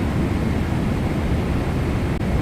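Steady broadband roar of a Delta Boeing 777-232LR airliner climbing in Microsoft Flight Simulator 2024, loud and unbroken throughout with no talking.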